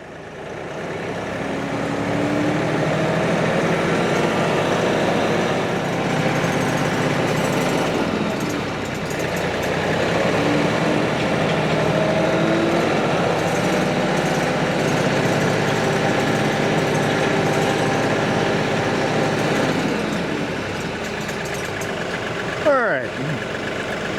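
A vehicle with a four-speed manual transmission, shuttle shift and range selector, set in mid-range forward 4th gear, runs with a steady, close engine drone that swells slightly as it pulls away, with a brief rattle near the end.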